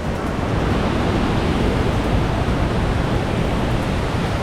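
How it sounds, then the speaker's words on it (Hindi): The roar of a wide waterfall, about 82 feet high, in Sri Lanka: a dense, steady rush of falling water that fills the whole clip with no pauses. "इस वाटरफॉल में इतना शोर होता है कि इसके सामने खड़े होकर आप एक दूसरे की बात भी नहीं सुन पाएंगे।"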